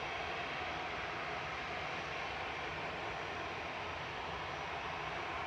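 An Aer Lingus ATR 72 turboprop airliner at Manchester Airport gives off a steady, even propeller and engine drone, distant and fairly quiet, with no talk over it.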